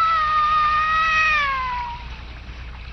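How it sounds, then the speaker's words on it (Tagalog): A cat gives one long, loud, drawn-out meow that slowly bends downward in pitch and fades, followed by a quiet background. "Ang pusa!"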